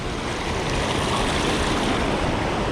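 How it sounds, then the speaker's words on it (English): A small urban waterfall rushes in a steady, dense wash of falling water, close and loud without pause, with no one talking. "Wow, look at that little waterfall."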